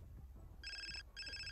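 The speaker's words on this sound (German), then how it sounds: "Telefon." In The Sims 4, a game telephone rings with two short electronic trills separated by a brief gap, clear and bright over a faint low background.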